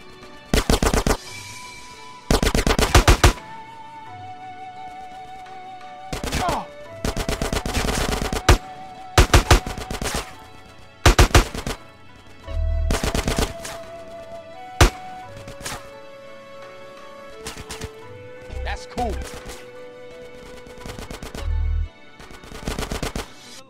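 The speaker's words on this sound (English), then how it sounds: "Get some suppressing fire in there!" Repeated bursts of automatic gunfire in the GTA San Andreas video game, loud and close, arriving in irregular volleys of one to two seconds separated by short lulls over a low background hum.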